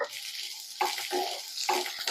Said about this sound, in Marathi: त्याच कढईमध्ये मी एक मोठ्या आकाराच्या कांद्याचे काप करून घेतलेले आहेत ते पण आपण व्यवस्थित रंग बदलेपर्यंत भाजून घेणार आहोत